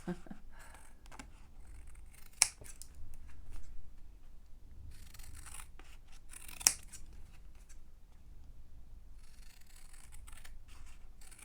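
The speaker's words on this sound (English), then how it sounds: "So we're back to watching me glue and cut again." Scissors snip through card while paper crafting a mini envelope folio, with two sharp, close cuts standing out over a steady soft rustle and handling noise, and no talking.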